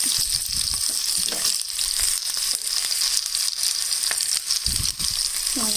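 Sliced onions frying in hot oil with mustard and cumin seeds while a bottle gourd peel curry is being made: a steady close sizzle and crackle with occasional stirring scrapes.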